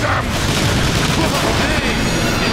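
Dense, continuous barrage of gunfire and booming explosions from the Transformers War for Cybertron video game, loud and sustained throughout with heavy low rumble and no clear gaps.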